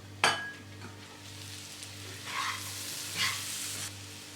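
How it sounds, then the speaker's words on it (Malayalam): Green beans and potato sauté in a pan for a Kerala-style stir fry: a clatter at the start, then a steady soft sizzle with a couple of scraping stirs near the end. "പച്ചമണമെല്ലാം ഒന്ന് മാറുന്നവരെ നന്നായിട്ട് വഴറ്റാം"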